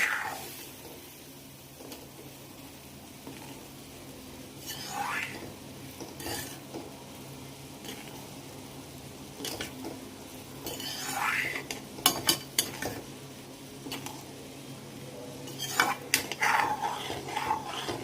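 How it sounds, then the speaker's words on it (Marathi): A spoon scrapes and stirs semolina mixed with water in a kadhai. Intermittent metallic clinks and scrapes come up close, with a faint sizzle in the background. "आता हे पाणी मी रव्यामध्ये ॲड करते पाणी मी रव्यामध्ये ॲड केलेलं आहे आता छान मिक्स करून घेते सगळं"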